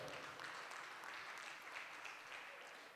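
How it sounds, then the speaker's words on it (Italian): Faint, distant applause from a crowd at a sports evening, an even wash of many hands clapping that holds steady with no voices standing out. "un bel applauso"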